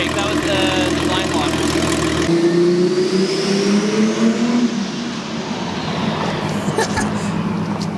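A Toyota Supra's engine on a dyno, loud and close, revving with a sudden shift at about two seconds and a rising pitch sweep, then a sustained rough drone with some talk over it.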